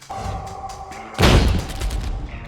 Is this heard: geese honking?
no